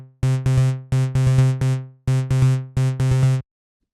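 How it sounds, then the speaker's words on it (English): A basic synthesizer arpeggio in DS Thorn plays repeating harmonic notes with a low-pass filter, in short rhythmic phrases of quick plucked tones that decay and repeat, then stop. "I'm gonna set myself a quick arpeggio"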